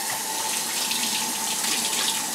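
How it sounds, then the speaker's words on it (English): Water runs steadily from a kitchen tap while hands are rinsed during pasta salad preparation, a soft continuous splashing hiss with no talking. "So let's rinse our hands off."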